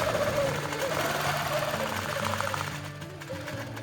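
Sewing machine quilting a Tula Pink hourglass quilt, a steady mechanical whir with fine rapid stitching pulses running throughout, fairly close, with some background tone and a slight drop in level near the end.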